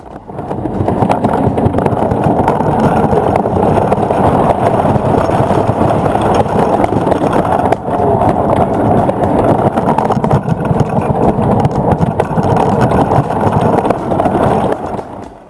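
A 1920s wooden roller coaster, the Coney Island Cyclone in Brooklyn, rumbles continuously and loudly on its track, a dense steady clatter and roar with no pauses.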